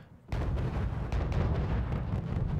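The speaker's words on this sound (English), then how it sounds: "Here comes the artillery to try to stun those Leos." Artillery fire in the real-time strategy game Wargame: a sudden heavy blast kicks in after a brief quiet, followed by a dense, continuous rumble of impacts and booms that stays loud to the end.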